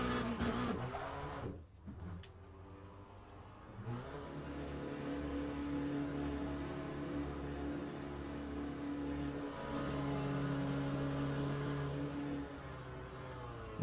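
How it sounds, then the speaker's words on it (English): A GT3 race car engine in the Le Mans Ultimate sim revs, dips briefly, then holds a loud sustained harmonic drone with gentle pitch shifts, heard alone without talk. "Love the sound of the car"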